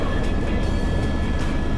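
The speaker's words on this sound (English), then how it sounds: "The only way down the third level was by helicopter." A loud, steady engine drone of a helicopter overhead on New Zealand's South Island, a continuous rumbling roar with faint rhythmic pulsing from the rotors.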